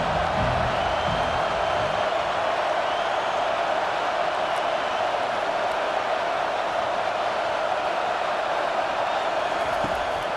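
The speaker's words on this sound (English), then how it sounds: "Decibels rising as the crowd gets behind this defense on third down" Stadium crowd in EA Sports College Football 25 roaring behind the defense on third down, a dense, steady wall of cheering noise that stays loud and unbroken for the whole stretch.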